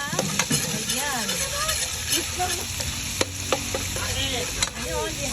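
Garlic sautéing in a Salad Master casserole gives a steady close sizzle with scraping and stirring clatter from a utensil throughout, and a voice speaks faintly in the background.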